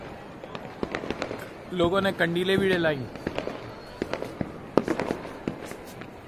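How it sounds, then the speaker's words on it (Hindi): Firecrackers and fireworks burst during a Diwali-style celebration in Delhi, with sharp scattered cracks and bangs throughout, some close and loud, while someone speaks briefly in the middle. "पटाखे बम सब फोड़े आ रहे हैं, आतिशबाजी हो गई"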